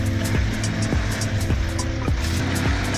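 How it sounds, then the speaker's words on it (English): A Soviet KrAZ all-terrain truck with a 400 horsepower engine runs steadily nearby, a loud, continuous low diesel drone with a repeating rhythmic pulse and no voices. "It's impressive to see the Soviet Kraz in action."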